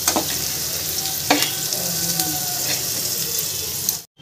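Vegetables for Maggi noodles sizzle and crackle steadily in hot oil, with a couple of sharp scraping clicks from a utensil, then the sound cuts off.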